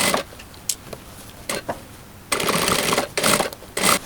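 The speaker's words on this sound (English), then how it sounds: "I will start at one opening, and I will sew around the neckline till another opening" Sewing machine stitching a ruffle around the neckline of a linen summer dress, running in several short bursts separated by pauses, with the longest runs in the second half; close and moderately loud, no talking.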